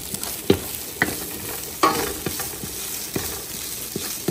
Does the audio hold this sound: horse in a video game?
no